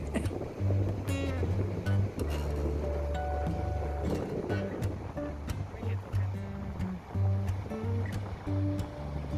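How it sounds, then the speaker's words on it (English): Rough ocean surf pounds the shore at South Padre Island in chilly winter weather, a steady broad wash of breaking waves with a low rumbling undertone that carries through the whole stretch. "The surf is really rough."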